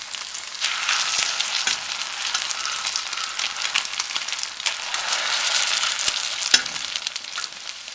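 Chicken shami kababs fry in oil in a pan, a steady close sizzle and crackle with occasional small pops and faint utensil clicks, no voices.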